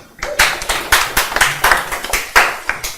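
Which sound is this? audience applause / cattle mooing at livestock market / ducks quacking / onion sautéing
audience applause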